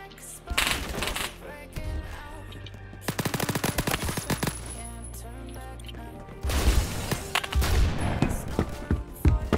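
Rapid automatic gunfire from a toxic-waste-camo gun in the shooter game Phantom Forces, with loud bursts and single shots coming in clusters, a pause in the middle, then a dense volley at close range.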